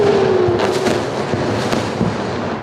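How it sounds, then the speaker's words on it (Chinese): Intercepted missiles explode in the night sky over Israel: a loud, continuous barrage of overlapping booms and crackling blasts over a dense, sustained rumble, with sharper bursts rising out of the roar. "被拦截的飞弹在空中炸成火球，爆炸巨响接连不断"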